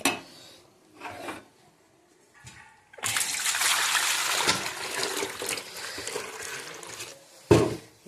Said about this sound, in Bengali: নেবো গরম জল।